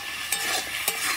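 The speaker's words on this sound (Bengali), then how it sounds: "আমি ভালো করে কষিয়ে নেব" Masala with potatoes and chickpeas is stirred and fried in a pan, a close steady sizzle broken by two sharp scraping strokes of a spoon against the pan; no one speaks.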